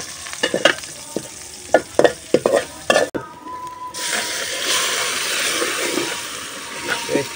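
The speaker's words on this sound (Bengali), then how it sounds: "পেঁয়াজ দিয়ে বাগার দিব" Cooked greens tempered with onion in a pot: several loud clanks and scrapes of stirring, then a sustained hissing sizzle that carries on steadily.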